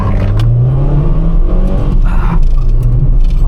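A car accelerates hard from a rolling launch on a country lane, its engine note climbing loudly and steadily from close inside the car.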